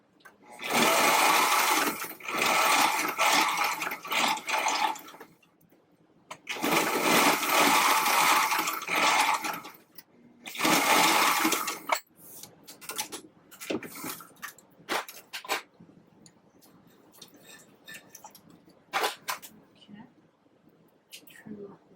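A sewing machine runs in long, steady bursts while stitching along a pleated fabric face mask, with pauses between runs, then quieter handling and shorter whirs toward the end.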